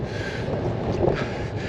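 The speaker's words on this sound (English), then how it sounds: "But it is pretty windy as well" Strong wind roaring and buffeting against the microphone outdoors on a wet, windy, cold day, a continuous loud rushing with gusty swells and no voices.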